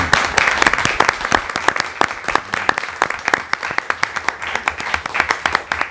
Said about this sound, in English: a round of applause for Mary as well